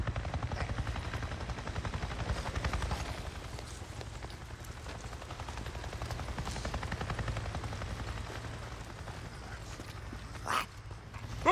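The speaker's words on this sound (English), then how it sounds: "I just saw a goddamn chopper! A chopper?" A helicopter flies overhead in the video game Days Gone, a steady low rotor drone that persists throughout with faint game ambience and a brief louder knock near the end, no speech.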